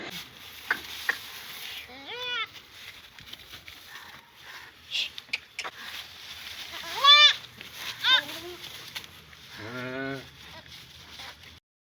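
A goat bleats beside its newborn kid on a farm, giving several clear, wavering bleats at intervals, fairly close, against a low background hum.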